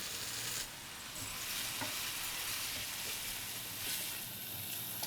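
Rice toasting in olive oil over high heat with sautéed onion, scallion and celery, a loud constant sizzle with continuous stirring and scraping close by.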